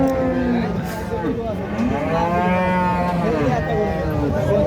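Cows moo loudly and repeatedly at a busy dairy cattle market where milking cows and calves are being sold, with long drawn-out calls over a constant crowd murmur and some voices in the background.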